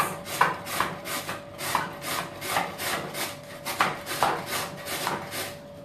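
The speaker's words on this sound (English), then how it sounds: "But you're just going to grate it on the side that gives you the longer" A carrot is grated on the long-shred side of a grater for homemade sauerkraut, giving a steady run of rasping strokes, about two each second, close and clear, with no voices.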